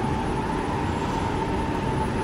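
A two-car Jakarta LRT train powered by a third rail runs along the track, giving a steady loud rumble with a constant motor whine throughout and no voices.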